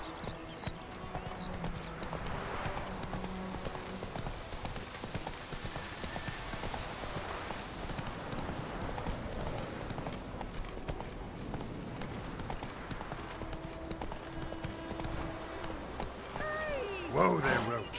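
Horse galloping in The Witcher 3 video game, rapid rhythmic hoofbeats running steadily throughout at moderate level over game ambience, with a voice briefly heard.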